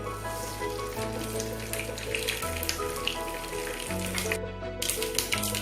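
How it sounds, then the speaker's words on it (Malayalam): Mustard seeds splutter and crackle in three tablespoons of hot coconut oil in a pan, a dense, close sizzle of rapid pops that continues without pause. "കടുക് പൊട്ടി തുടങ്ങിയിട്ടുണ്ട്."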